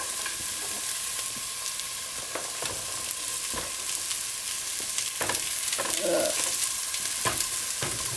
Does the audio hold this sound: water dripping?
no